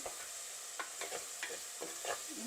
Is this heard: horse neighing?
no